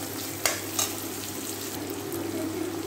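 Onions frying in a pan for a bitter gourd sabzi give a steady, close sizzle with a couple of brief stirring clacks near the start, running on its own with no talk.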